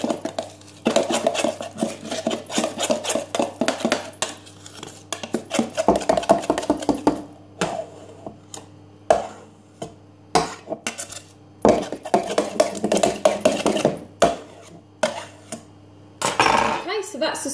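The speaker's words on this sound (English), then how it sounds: "Give that a little mix with my knife, just to make sure there's nothing sticking around the edges." A knife stirring pancake batter in a bowl, giving a string of light metallic clinks and scrapes against the dish in uneven bursts with short pauses between them.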